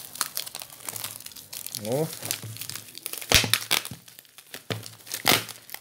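Adhesive tape crinkles and rustles as it is handled and wrapped around a homemade bait for trapping stingless bees, in short crackly bursts under a man's brief speech.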